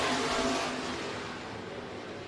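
Stock cars racing at Crawford County Speedway, a broad roar of engines that fades gradually as the pack pulls away, steady and fairly distant with no voices.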